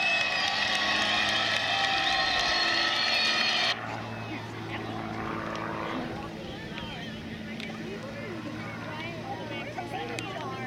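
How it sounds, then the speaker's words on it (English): An aerobatic airplane making a knife-edge pass at the Culpeper Air Fest gives a loud, droning engine roar that cuts off abruptly, leaving a quieter, distant outdoor background with faint crowd noise. "Picture taking pass, knife edge flight."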